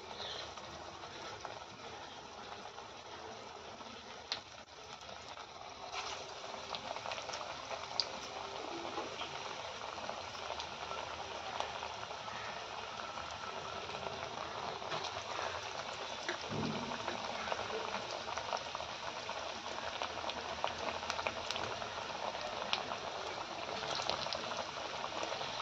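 Chana dal sweets deep-frying in ghee, a steady, dense bubbling sizzle that runs unbroken and fairly loud throughout, with no voices over it.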